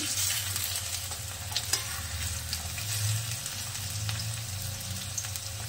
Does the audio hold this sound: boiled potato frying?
yes